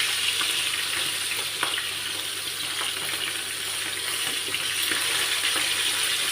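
Fish frying in a pan gives a steady, close hiss of hot oil with faint crackles and pops running throughout, no voices.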